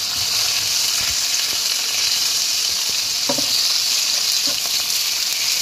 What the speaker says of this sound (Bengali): এবার আমি একটু এই সময় প্রনগুলো আমি একটু ভেজে নেব